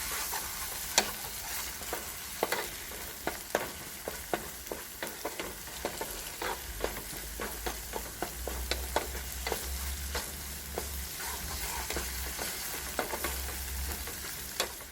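Tomato paste with salt, black pepper and turmeric is stirred in a frying pan, a soft continuous sizzle broken by repeated light scrapes of the spoon against the pan, with no talking.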